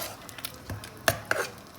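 A spoon stirs a salted masala and water mixture in a pan for vegetable rice, with quiet scrapes and a few sharp metallic clinks at irregular intervals, no voices.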